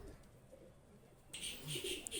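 Pakistani high flyer running pigeons coo faintly at first, then a brighter burst of bird calls rises sharply in the second half of this brief moment.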